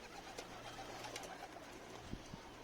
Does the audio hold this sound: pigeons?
yes